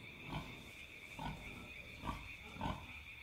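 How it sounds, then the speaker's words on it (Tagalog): Pigs grunting in about four short, evenly spaced bursts, close by, over a steady high-pitched background hum. "Naririnig ko ang mga huni nila na noong una ay tipikal na huni lang naman ng baboy."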